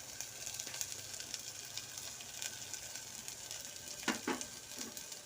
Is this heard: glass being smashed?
no